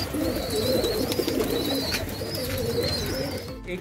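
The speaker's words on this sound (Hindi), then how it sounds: "कैसे मादा कबूतर अपने बच्चों को खाना खिला रही है" Pigeons in a loft, a mother feeding her chicks, with continuous low cooing and soft squeaky chick calls close by, over a steady background hum.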